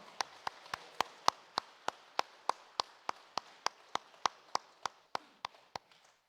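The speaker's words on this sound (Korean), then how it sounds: "우리 성도님들 박수로 환영하도록 하겠습니다" Slow, evenly spaced claps ring out inside a church during a Sunday service, about twenty sharp individual claps at a steady pace over a quiet background, more like one or a few people than a full congregation.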